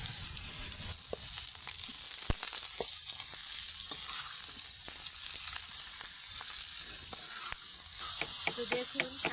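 Cabbage greens hit a wok of fried onion and garlic and sizzle with a steady hiss, while repeated spatula scrapes and taps sound close by. No one speaks.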